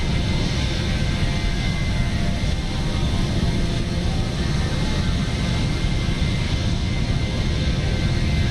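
Steady, loud airliner engine roar inside the cockpit during the climb in Microsoft Flight Simulator, a continuous broadband rush with a deep low-end drone, unchanging for the whole stretch, with no talk.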